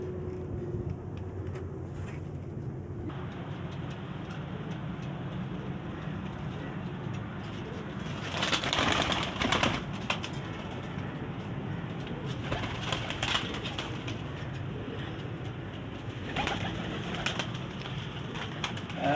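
Pigeons kept by a Pakistani pigeon fancier coo softly in low, repeated murmurs while bursts of wing flapping break in near the middle and again later. Steady background hum runs throughout, and there is no talk.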